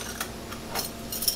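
A spoon tips dried goji berries into a pot of water, giving a few light scattered ticks and clinks near and quiet, with a small cluster of taps toward the end.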